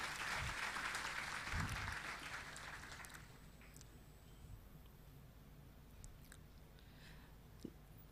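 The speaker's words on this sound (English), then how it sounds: "Please give a big round of applause to them." Audience at a startup ecosystem panel discussion claps in a burst of applause that is fairly loud for the first three seconds, then fades into quiet room tone.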